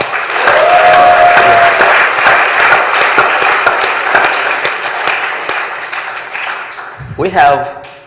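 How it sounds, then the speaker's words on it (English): A live webinar audience gives a loud, sustained round of applause and cheering that gradually fades, ending with a brief burst of crowd noise. "So let's give them a round of applause for their vision."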